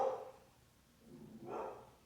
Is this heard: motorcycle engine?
no